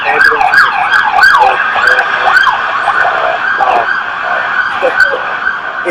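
An ambulance siren wails in repeated rising and falling sweeps, loud and steady throughout with no pause.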